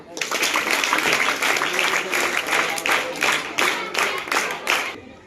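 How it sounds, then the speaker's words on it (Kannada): Students and teachers applaud during a school parliament election result announcement. The clapping is fairly close and lively, with a steady wash of hands that swells in uneven bursts and then tapers off near the end. "ಅವಸರಿ ಚಪ್ಪಳ ತಟ್ಬಿಡೋಣ"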